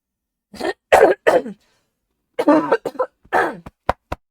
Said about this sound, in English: My sincerest apologies, friends, for the coughing.